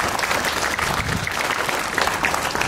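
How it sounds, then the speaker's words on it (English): Audience applause at a college founding day ceremony after games, a dense steady wash of many hands clapping, loud and continuous from start to finish with no talk over it. "Please give them a round of applause."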